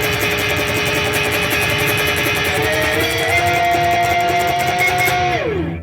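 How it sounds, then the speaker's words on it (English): A loud, distorted electric guitar churns through a riff, the strings pulled down partway through to bend the pitch upward. The raised note is held for a few seconds, then drops back before the sound cuts off. "I would start just pulling the strings down so it just raises the pitch a little bit more"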